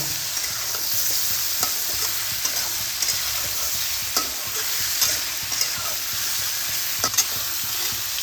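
Fried snake gourd is stirred into a spice masala in a pan: a continuous close frying sizzle with a few soft scrapes and clinks from stirring, and no voices.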